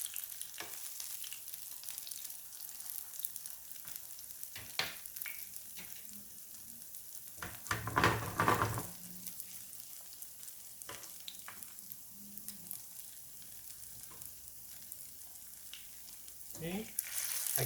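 A vegan mung bean pancake with onions fries quietly in a hot pan, giving a soft, continuous sizzle broken by occasional scrapes and clatter as it is shifted around, with one louder burst midway.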